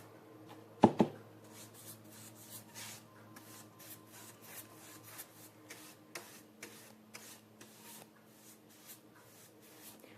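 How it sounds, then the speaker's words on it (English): A brush spreading quick-drying varnish over painted furniture, with soft repeated strokes and rubbing sounds, close and faint, following one sharp knock near the start. "What I like about this varnish too is it dries quick, but it's not so quick that you can't go back over it like I am right now."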